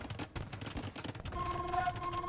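Cannons in a medieval strategy game fire repeatedly on enemy towers, a dense run of booms and impacts followed by a sustained tonal hum, busy battle noise with no talk.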